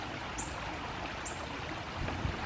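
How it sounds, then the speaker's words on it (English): Constant, even rushing of a full, flowing creek, with a couple of faint high bird chirps over the water. "The creek is full and it sounds pretty."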